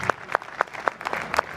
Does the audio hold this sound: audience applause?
yes